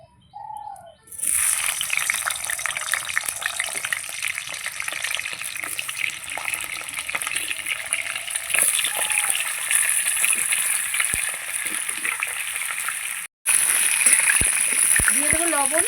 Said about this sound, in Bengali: এই যে মাংসের আলুটা আমি ভেজে নেব।